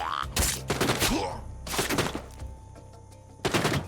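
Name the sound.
gunfire in video game The Walking Dead: Saints & Sinners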